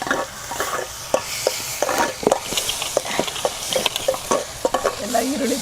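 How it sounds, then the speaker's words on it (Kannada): Onions frying in a pan for a ridge gourd gojju in a Mysore village kitchen, a steady sizzle broken by repeated scraping stirs of a spoon, close and fairly loud. "ಎಲ್ಲ ಈರುಳ್ಳಿ ಬಾಡ್ತಾ ಇದೆ. ಈರುಳ್ಳಿ ಕೆಂಪಗಾಗಿದೆ."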